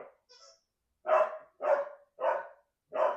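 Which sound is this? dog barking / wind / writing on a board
dog barking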